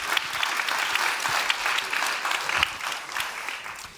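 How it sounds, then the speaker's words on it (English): Sustained audience applause at a global solutions summit as the judges walk off stage, an even crowd clapping that holds steady and tapers slightly near the end. "Let's give the judges another round of applause as they go."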